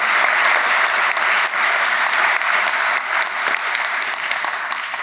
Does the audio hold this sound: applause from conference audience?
yes